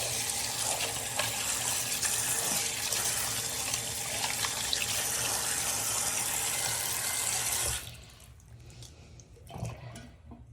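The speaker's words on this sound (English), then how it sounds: "Let me go ahead and take these out, rinse them, and see how clean they got." Dental retainers are rinsed under a running kitchen-style tap: a steady, close gush of water that stops abruptly near the end, followed by faint handling noises.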